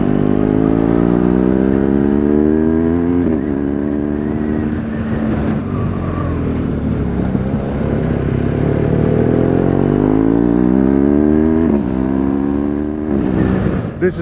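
Car rolling along a gravel road in the south of France, with a steady close engine hum beneath constant crunching and clattering of stones under the tyres, rising and falling slightly in pitch as the car gently speeds up and slows over about fourteen seconds.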